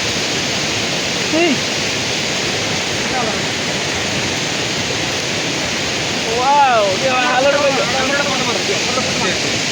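Steady roar of a waterfall, a broad, continuous rushing wash heard up close at a coffee garden, with faint bird chirps and brief voices calling out over it partway through.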